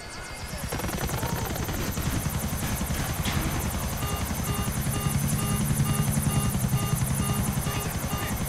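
A video game helicopter's rotor beats in a rapid, steady chop with a whining engine drone, loud and continuous throughout.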